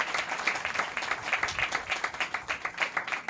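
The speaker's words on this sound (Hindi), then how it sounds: "ताली बजाओ इन सभी के लिए" An audience claps for a group of sisters at a Mother's Day gathering, a steady patter of many hands with regular rhythmic pulses throughout, moderately loud and with no talk over it.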